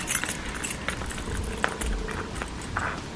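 A bundle of about eight keys on five key rings jangles and clinks as it is loaded into a Louis Vuitton key pouch, a close run of bright metallic rattles with a couple of sharper taps and no talking.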